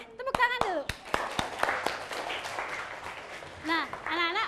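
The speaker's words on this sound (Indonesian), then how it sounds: "Oke, tepuk tangan dulu." In an Indonesian primary school classroom, a small group of children claps hands in a quick, scattered burst of applause, mixed with their high voices calling out and chattering.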